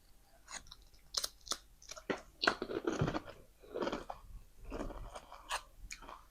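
Barbecue-flavoured potato chips being eaten up close, with sharp irregular crunches and chewing that come in quick bursts and brief pauses. No one talks.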